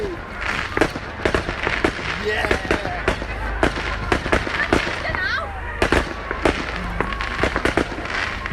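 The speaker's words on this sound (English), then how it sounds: "The fireworks display is well underway!" Fireworks display on a cold bonfire night at Manor Fields, with repeated loud bangs and crackling bursts firing in quick irregular succession while a crowd cheers and a voice calls out over the noise.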